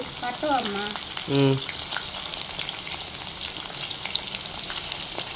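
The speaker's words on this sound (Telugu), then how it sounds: "చక్కగా కాకరకాయలు అయితే వేపేసుకోవాలి మంచి రంగు వచ్చే వరకు" Bitter gourd (kakarakaya) frying in a pan of oil, a steady hiss and crackle that continues throughout, with a couple of brief voiced sounds early on.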